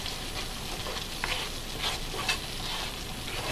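Taro root (arbi) sautés in a pan over a low flame, a soft continuous sizzle with a few faint clinks and scrapes of stirring, close but fairly quiet.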